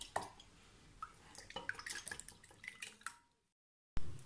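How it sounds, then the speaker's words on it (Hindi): Two eggs are beaten in a bowl, giving light, irregular clinks and taps of utensil against the bowl for about three seconds, then a brief silence and one more sharp sound. "सबसे पहले मैं एक बाउल लूँगी, उसके अंदर मैं दोनों अंडे डाल दूँगी। इसको मैं अच्छे से फेंट लूँगी।"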